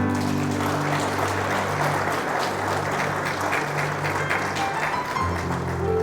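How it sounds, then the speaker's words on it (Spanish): A church congregation applauds in a steady, dense burst of clapping that fills the room for several seconds without pause. "Aplauda a Cristo."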